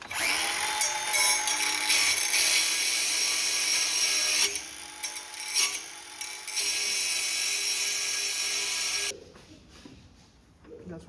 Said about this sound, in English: Using it with a grinder.